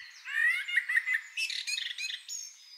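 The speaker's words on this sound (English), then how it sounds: "would wake up to the melodious chirping of birds" Birds chirp and tweet in a bright, busy run of calls in an animated garden scene, with fluttering trills and squawky notes layered close and clear.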